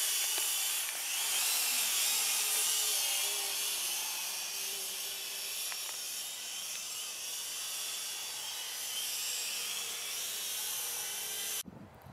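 An XK X300 quadcopter flies nearby with its small motors giving a continuous high-pitched whine that holds steady, then cuts off abruptly near the end.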